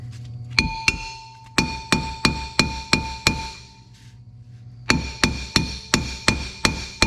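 Steady hammer blows ring out on the rear brake drum of a 2001-2005 Honda Civic, striking metal to free it: a run of about eight evenly spaced taps, a brief pause, then about seven more, loud and close with no talking.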